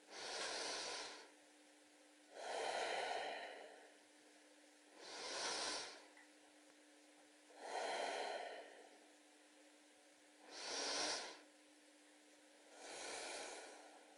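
Slow abdominal belly-breathing exercise: six long, soft breaths, inhales and exhales alternating at an even pace, close to the microphone over a quiet steady hum, with no speech.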